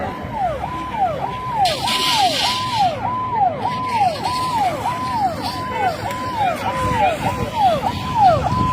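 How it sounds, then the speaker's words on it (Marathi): A loud fire engine siren wails in a fast, repeating rise-and-fall pattern, cycling steadily, with traffic rumble underneath, as it arrives at a burning bus on a road near Kej. "केज नगरपंचायतची अग्निशमन दलाची गाडी या ठिकाणी पोचलेली आहे"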